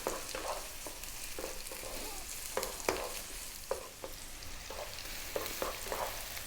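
Onion frying in a pan over above-medium heat, with a steady soft sizzle broken by repeated scraping stirs, close up, with no voices.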